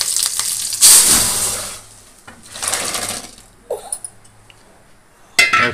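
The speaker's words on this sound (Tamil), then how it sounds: "முதல்ல இதை நல்லா பொரியுது, வெடிக்குது." Tempering spices, with curry leaves among them, sizzle and splutter in hot oil for a jackfruit seed, drumstick and raw mango kuzhambu. Loud hissing bursts swell and fade, with a few sharp pops and a clink near the end.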